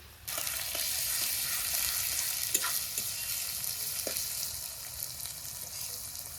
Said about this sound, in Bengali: ফোড়নের পেঁয়াজগুলো লাল লাল করে ভেজে নিলাম